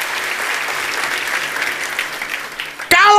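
A church congregation claps together in sustained, dense applause that stays fairly even before a voice cuts in at the very end.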